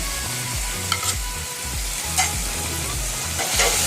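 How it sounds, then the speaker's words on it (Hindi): Keema (minced meat) is stirred and fried with ground coriander, cumin, black pepper and garam masala in a pan. A continuous sizzle runs under repeated scraping stirs, with a faint musical hum behind and no speech. "2 मिनट मैंने सारे स्पाइसेस डाल के इसे भून लिया"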